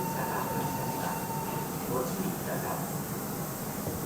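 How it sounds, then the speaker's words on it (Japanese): A Meitetsu local train on the Nagoya Main Line departs a station, heard as a steady, even rumble with faint tonal hums and no distinct peaks. "普通列車の塚口行き発車いたします"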